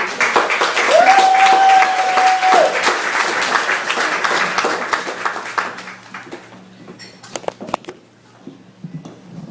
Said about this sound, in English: Let's have a nice vote of applause now for the return of Holly McDowell.